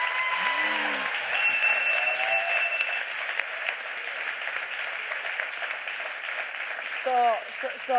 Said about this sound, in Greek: Παρακαλώ τα χειροκροτήματά σας.